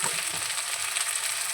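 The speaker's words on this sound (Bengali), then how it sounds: "ফুলকপি আর সিমটা দিয়ে একটু কিছুক্ষণ ধরে নাড়াচাড়া করবো, মানে একটু ভাজা ভাজা করবো।" Cauliflower and flat beans stir-fried in a pan sizzle steadily and close, with soft stirring scrapes throughout.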